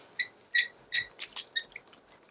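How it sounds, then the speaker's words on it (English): High, chirpy squeaks from a brayer rolling blue paint onto paper come in a quick irregular series of short bursts, close up over a faint background hiss. "I have a squeaky brayer."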